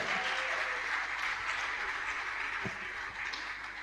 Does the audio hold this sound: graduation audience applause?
yes